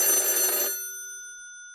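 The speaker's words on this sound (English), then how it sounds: "let it ring, let it go on ringing" A telephone bell in an old-time radio drama rings loudly in a single burst, then cuts off, leaving a faint tonal ringing that fades away.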